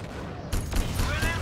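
Gunfire in the video game Crysis Warhead, a sudden loud burst of rapid shots that kicks in after a brief quieter lead-in and rattles on to the end.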